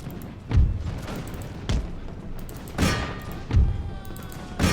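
Musket volleys crack out in the video game Imperial Splendour, four or five booming bursts spaced about a second apart, each ringing out with a brief echoing tail over a steady noisy battlefield background.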